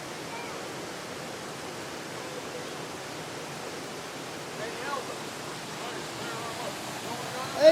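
Waterfall near Brevard rushing as a steady, continuous broadband roar that stays even throughout, with a faint voice and a small bump near the end.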